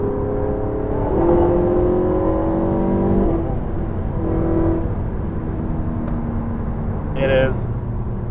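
A Porsche 918 Spyder hypercar accelerates from inside the cabin, its engine note rising in pitch in two pulls under steady road rumble, with a voice speaking briefly over it.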